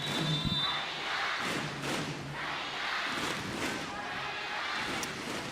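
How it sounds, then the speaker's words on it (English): An arena crowd at a women's volleyball Olympic qualification match between Japan and Kazakhstan makes a broad, rolling roar that swells and eases in waves, with a few dull thuds and a commentator's voice faintly beneath. "Crowd again, still getting involved."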